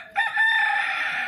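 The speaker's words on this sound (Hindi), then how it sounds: "हमारा एक मुर्गा है, वो जोर जोर से चिल्ला रही है" A cooped-up rooster crows loudly and close by in a village setting, one long sustained call that starts abruptly and holds strong to the end.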